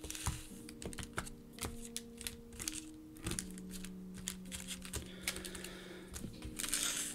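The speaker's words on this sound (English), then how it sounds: "Shuffle the rest of these up." Trading card packs are shuffled by hand from a box break, giving a run of quick, crisp clicking and flicking taps, close and fairly quiet, with no talk over them.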